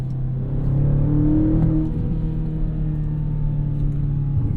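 Inside a BMW X5 M, the V8 engine drones with a deep, steady low rumble and a brief rising pitch of acceleration, heard close from the cabin.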